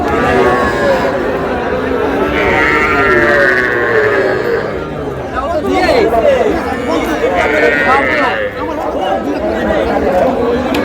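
Small crossbred bull calves at a busy cattle market in Rajbari, with several long drawn-out moos and bleating calls rising over a dense, loud crowd of chattering people and traders talking nearby.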